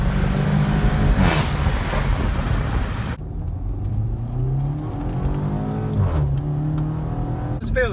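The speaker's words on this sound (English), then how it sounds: "I'm going to show you the exhaust video with the windows down hitting the DSG" An Audi B8 A4 2.0T exhaust with the resonator deleted roars loudly under acceleration through the DSG gearbox, then settles into a deeper drone with a rising rasp as the engine pulls again.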